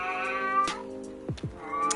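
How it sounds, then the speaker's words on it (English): A domestic cat meows close by, with several drawn-out, wavering yowls and shorter calls following one another over two seconds. No one speaks. "Cat's popping off."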